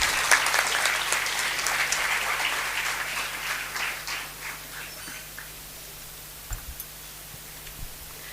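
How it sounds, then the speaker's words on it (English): An audience applauds at an annual prize distribution ceremony, loud steady clapping from many hands that gradually thins out and fades to a few scattered claps. "Have a round of applause, please."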